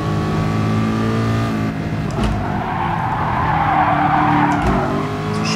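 A race car's tires skid and squeal under late braking in GT Sport at the Autopolis circuit, a loud sustained screech over the droning engine, with revving and brief bumps as the car scrubs speed.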